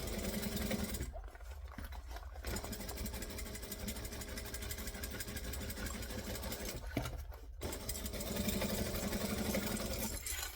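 A sewing machine hums steadily while stitching a bag at a 2.5 stitch length, a continuous mechanical whir that pauses twice briefly before resuming, with quiet talking in the background.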